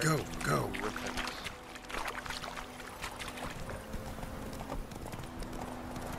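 Roach, Geralt's horse in The Witcher, clip-clops with quick hoofbeats over a few seconds, fairly close, while a voice speaks over the steps.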